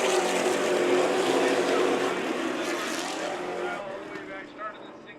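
Stock cars roar along the Havasu 95 Speedway during a SPEARS CARS Tour West race, a loud engine drone that sweeps past and gradually recedes, with a race announcer speaking over it.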